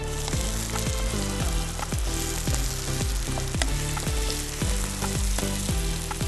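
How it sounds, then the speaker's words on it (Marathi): Tomatoes frying with onions in a pan for a rustic village-style chicken curry, a loud continuous sizzle with regular stirring clatter and scraping running throughout, mixed with steady rhythmic background music. "अख्खा वाटी टमॅटो आपण घेतलेला आहे मिक्स करून घेऊ"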